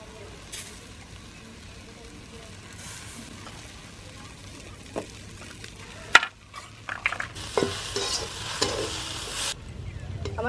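Drumstick leaves stir-fry in a pan with a soft, steady sizzle, while a spatula scrapes and clinks more loudly toward the end and a voice talks over it.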